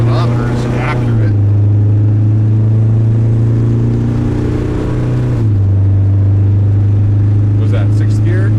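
A restored Toyota FJ60 Land Cruiser with a Cummins R2.8 diesel and 8HP80 automatic pulls hard on the highway, a loud steady engine drone heard from inside that drops in pitch at two gear changes.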